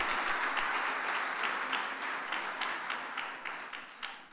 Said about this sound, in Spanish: Dele un aplauso al Señor esta mañana, hermano.